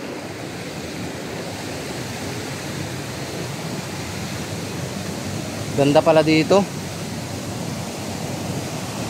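Water flows steadily beside a balete tree in a wild outdoor spot, a constant broadband rush that fills the whole stretch, while a voice briefly speaks over it near the middle.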